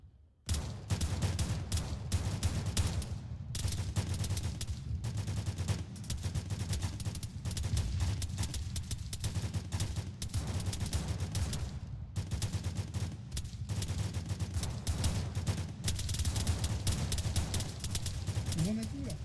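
Rapid bursts of gunfire in an Arma combat match, sustained and dense across the whole stretch with heavy low rumble, loud and close, with voices talking over it.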